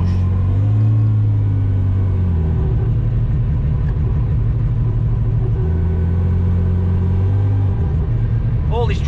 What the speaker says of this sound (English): All this driving on a 13B billet, full billet.